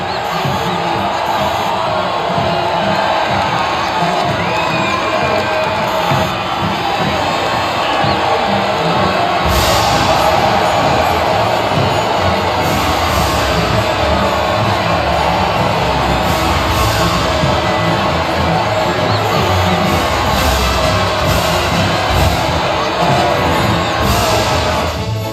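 A dense crowd roars and cheers steadily for a podium celebration after a Formula 1 race in the game F1 25, the broad wash of voices loud and continuous with occasional sharper shouts and bangs.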